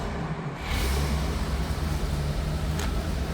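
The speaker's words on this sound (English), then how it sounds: "Inline 8-cylinder, 327 cubic inches, fired right up." A 1953 Packard Cavalier convertible's 327 cubic inch inline 8-cylinder engine catching after a short start, then settling into a loud, steady, low rumbling idle close by.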